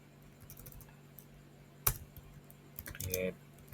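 A few light computer keyboard keystrokes typing an npm command, soft and close, with a sharper clack partway through and a short cluster of taps near the end, under quiet room tone.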